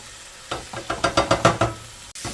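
Filet steak cooks in a ceramic nonstick frying pan, heard as a run of about eight rhythmic scraping, sizzling strokes close by, followed by a short sharp knock and a quieter stretch.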